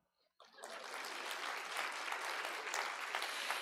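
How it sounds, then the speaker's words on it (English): Steady applause from an audience at a lecture, starting suddenly after a short quiet moment and then holding evenly, dense and fairly distant, with no voices over it. "Clap."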